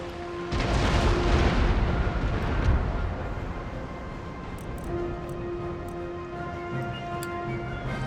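Warship cannon fire in the Empire: Total War video game: a deep rolling boom opens the scene and fades into a low rumble, with creaking ambience and faint crackles afterward.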